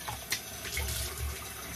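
Tap water runs into a bathroom sink while it warms up before a wet shave, a soft steady splashing stream close by with no talking.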